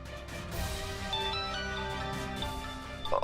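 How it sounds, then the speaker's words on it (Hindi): A melodic phone ringtone plays for an incoming call, a steady sequence of bright electronic tones over a low background hum at moderate volume, with no talking over it. "बॉस का फोन आ रहा है"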